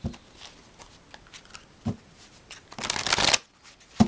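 Tarot cards are handled and shuffled close up, with a few light taps and card flicks leading into a dense riffling burst before a final soft tap.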